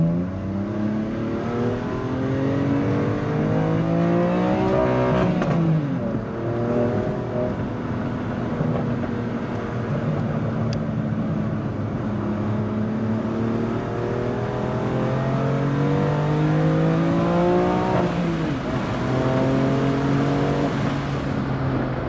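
A BMW M2 with traction control off accelerates hard on a race track, its engine note climbing steadily through the gears with a few sharp shift drops, loud and close throughout with no speech.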